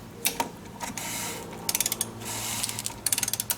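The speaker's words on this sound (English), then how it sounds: "This is a 1/2 inch ratchet" A 1/2 inch ratchet with a 15/16 socket snugs down the oil drain plug on a 2013 Jeep Wrangler, giving two close, quick bursts of sharp clicking, with quieter fiddling between them.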